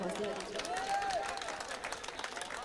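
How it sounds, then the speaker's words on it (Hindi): Faint, steady applause from a mushaira poetry-reading audience, a soft wash of scattered clapping that continues evenly throughout without any voices rising above it. "एक बार ज़ोरदार तालियां बजा के मुझे थोड़ा सा हौसला"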